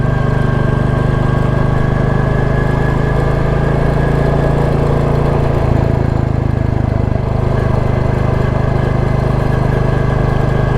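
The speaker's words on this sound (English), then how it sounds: "demonstrate the J-Series engine's second gear chuggability once more. Just leave it in second" Royal Enfield Classic 350 J-Series single-cylinder engine chugging along in second gear at a steady low rumble, loud and continuous, with wind and road noise mixed in and no talk.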